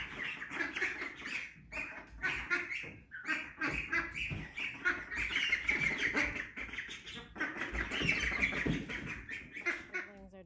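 A flock of ducks quacks and squawks continuously on the way outside toward a pool, many overlapping calls close and busy, with no talk.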